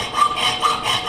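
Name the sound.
hacksaw sawing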